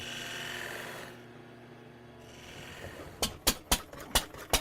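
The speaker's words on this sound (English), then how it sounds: "the drill's running over there" A pulley-driven boring machine hums steadily while drilling rung holes in ladder sides, then a series of sharp, regular mechanical knocks repeat about every half second, close and fairly loud.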